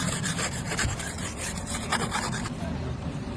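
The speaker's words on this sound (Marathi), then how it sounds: "स्क्रॅपरने पहिले काचेवरचा बर्फ काढला घासून घासून." A hand ice scraper rasps across a car windscreen coated in frozen dew in the UK, in repeated close, gritty strokes that stop and fade to quiet near the end.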